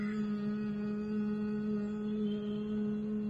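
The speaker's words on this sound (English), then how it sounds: "start producing humming sound like this" Steady low humming breath of Bhramari (bumblebee breath) pranayama, a single sustained nasal drone held evenly throughout at moderate level with no talk.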